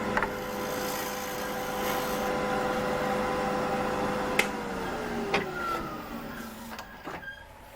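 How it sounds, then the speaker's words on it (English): A half-inch bull gouge rounds a wood blank spinning on a lathe, giving a steady motor whine and continuous scraping hum, with a few sharp knocks and clicks toward the end. "I'm just going to use a 1/2 inch bull gouge to get this round"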